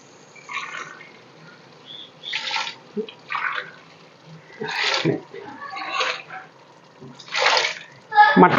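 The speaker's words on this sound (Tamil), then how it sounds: "மட்டன் வெந்த தண்ணியை விட்டுக்கலாம்." Mutton cooking water poured from a tumbler into a biryani pot, in a series of splashing pours separated by short pauses, close and fairly loud, with people talking in between.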